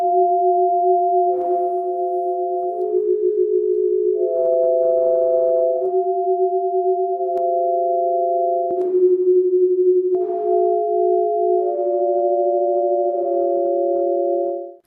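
Electronic sine-like tones form sound portraits of people's faces, played as steady sustained chords of two or three pure pitches that shift every few seconds across the whole stretch, clean and loud with no talking.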